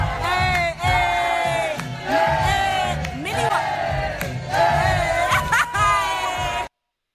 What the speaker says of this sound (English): Ola's going to applaud himself one more time